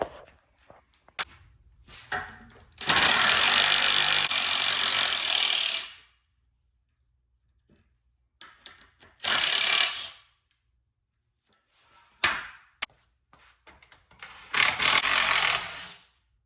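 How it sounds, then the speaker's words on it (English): A 9/16 socket wrench backing lag screw bolts out in a garage: several separate bursts of loud rapid ratcheting lasting a few seconds each, with quiet handling clicks and taps between them, close and without talk. "gonna go ahead and start taking out these bolts for these lag screws"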